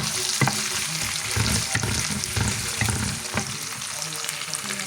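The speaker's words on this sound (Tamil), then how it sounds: "வெங்காயம் போட்டாச்சு பாருங்கோ, வதங்குது" Onions sauté in a hot pan with a dense, continuous sizzle, and a few scraping stirs cut through it, close and fairly loud.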